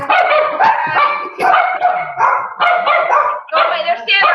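Dogs bark in repeated bursts across the whole stretch, close and loud, with a voice talking amid the barking.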